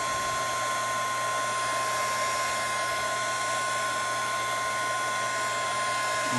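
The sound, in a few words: heat gun loosening adhesive on LG G Flex LCD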